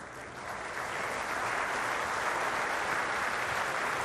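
An audience applauds miner Laurent Zemelbeck at a ceremony at the Merlebach headquarters, a steady, dense wash of clapping that swells in and holds for several seconds at moderate distance.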